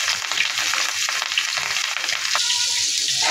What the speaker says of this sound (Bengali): এবার রুই মাছগুলো ভেজে নেব।